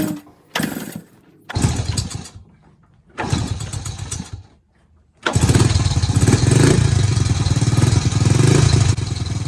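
A 1999 Honda C90 motorcycle engine fitted with a new exhaust is started in short bursts, revving and cutting out twice, then catches and runs loud and continuously with a rattly exhaust note.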